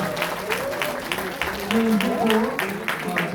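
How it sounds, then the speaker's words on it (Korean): Audience at a book-launch celebration claps in a light, steady patter of separate hand claps, with a voice speaking over the applause throughout. "힘찬 박수 한번 보내주시기 바랍니다"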